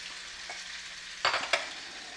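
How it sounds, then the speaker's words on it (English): Butter sizzles and spits softly in a hot pan after frying in peanut oil, a quiet steady hiss with a couple of brief louder crackles, no voices. "when I put that butter in there, it started smoking."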